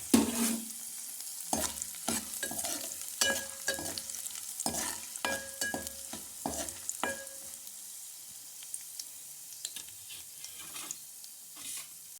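Spices, dried red chilies and lentils sizzle in hot oil for broad bean chutney while a utensil stirs and scrapes in repeated sharp bursts, close up, fading quieter toward the end.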